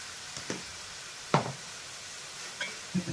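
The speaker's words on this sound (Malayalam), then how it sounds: "ഇളക്കട്ടെ നല്ലപോലെ ഇളക്കി യോജിപ്പിക്കാം" A spoon stirs and scrapes jackfruit seed thoran in a pan in quiet, scattered strokes, with a faint sizzle underneath.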